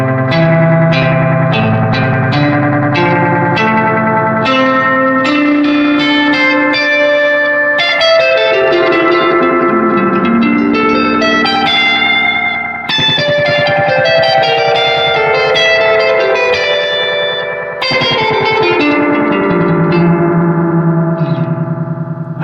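Electric guitar run through a vintage DOD Echo FX FX96 pedal cranked high, loud sustained chords smeared with heavy repeating echoes and swirling modulation, played alone with no talking.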